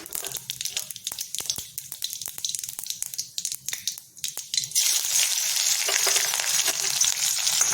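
Mustard seeds, green chilies and curry leaves crackle and spit in hot oil as a tempering for kadamba fruit rice, with sharp irregular pops at first, then a dense, steady, loud sizzle once the leaves hit the pan.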